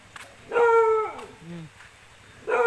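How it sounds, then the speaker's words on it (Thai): A dog that has been out in the rain barks two short, loud yips close by, separated by a brief whimpering tone, with a voice faintly in the background. "อย่าเห่าอย่าเห่า"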